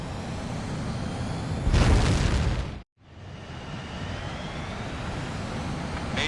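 In the video game Ace Combat 7, a jet fighter launches with a loud roaring rush of engine noise that swells, then cuts to a brief silence before a steady engine drone resumes.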